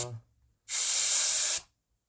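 A single steady blast of a compressed air can spraying, lasting about a second, close and loud, following a brief moment of voice and silence, cleaning the filter of a Roborock Xiaomi robot vacuum.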